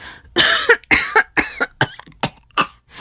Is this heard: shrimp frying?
no